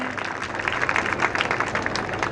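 An audience at a primary school inauguration applauds as a girl is honoured, with steady, dense clapping that stays fairly even and carries on without a break.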